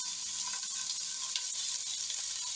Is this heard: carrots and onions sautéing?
yes